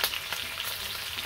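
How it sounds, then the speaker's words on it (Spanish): Pork ribs fry in a pan of hot oil for a Bolivian puchero, giving a steady, dense sizzle and crackle up close with no voices. "Así vamos a freír todas."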